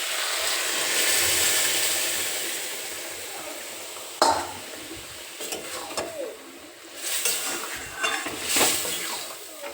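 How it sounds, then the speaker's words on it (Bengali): Boiled masoor lentils go into a hot pan with a sudden thud and splash, then a spoon stirs them through continuous sizzling, with scraping and clinks against the pan close by. "তো এই সেদ্ধ করা মুসুর ডালটা এবার এর মধ্যে দিয়ে দেবো।"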